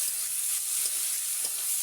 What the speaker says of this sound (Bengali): মশলাটা ভাজা ভাজা করলে কাঁচা গন্ধটা চলে যায়